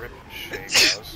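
One sharp sneeze bursts out briefly amid conversational voices during a casual online game session, close and fairly loud.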